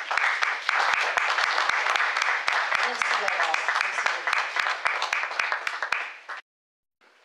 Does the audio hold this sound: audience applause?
yes